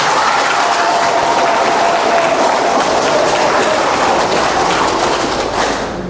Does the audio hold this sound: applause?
yes